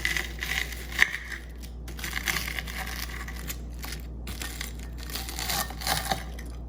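Crispy fried pork cutlet (tonkatsu) crunching in a string of close, sharp crackles and snaps, with one louder crack near the start, over a low steady hum.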